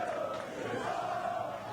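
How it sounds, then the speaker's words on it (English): A wrestling match crowd roars in a sustained, loud wave of cheering and shouting, with a dense hum of voices filling the arena without a break. "The crowd's into this heavy."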